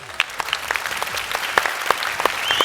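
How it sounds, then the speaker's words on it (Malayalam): An audience at a comedy and dance show claps for the set and costume crew, with quick, sharp claps popping out over a steady wash of applause. "ഇവർക്കാണ് കൈയടി കൊടുക്കേണ്ടത്"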